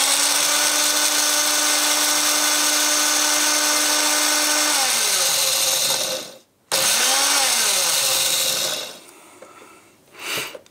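A grinder whirs loudly and steadily as it grinds dried chilies into chili powder, its pitch sliding down as it winds off, a brief gap, then a spin back up before cutting out and a short final burst.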